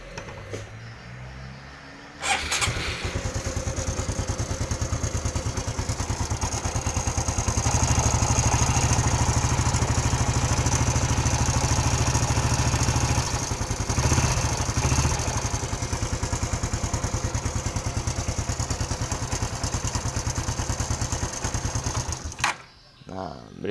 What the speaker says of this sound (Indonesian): Ini keluhannya ada suara berisik di bagian mesin